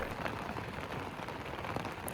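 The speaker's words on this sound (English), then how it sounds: "It's raining." Rain falling at a campsite in the Shenandoah Mountains at night, a faint, even patter of drops on surfaces with no other sounds.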